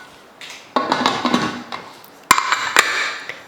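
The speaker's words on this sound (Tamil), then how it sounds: "இப்போ மூடி வச்சிடலாம்." A lid is set onto a pressure cooker holding goat intestine fry, with several close metallic clanks and scrapes as it is fitted, then two sharper knocks.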